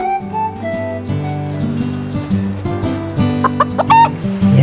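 Chickens in the farming video game Harvest Moon: The Wind of Anthos cluck repeatedly over looping game background music, with short, close clucks that grow denser and louder near the end.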